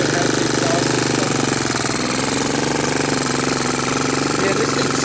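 Honda TRX200SX ATV engine running with no exhaust system, a loud, harsh, rapid mechanical clatter held steady and close throughout.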